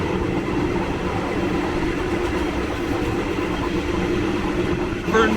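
A Thai long-distance train runs steadily past wide-open vestibule doors, a constant loud rumble of wheels and rushing air with faint rail clatter, swelling slightly near the end.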